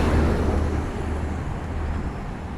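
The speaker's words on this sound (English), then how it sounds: "we'll let this truck pass. It's getting loud." A loud truck rolls past outdoors, a broad rumbling roar that is strongest at first and then eases slightly but stays steady, with no talk over it.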